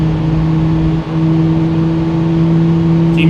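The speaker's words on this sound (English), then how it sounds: "listen to those engines spool up" Airbus A330 jet engines spooling up in Microsoft Flight Simulator 2020, a loud steady whine with strong low hum tones holding level throughout, alone and without voices.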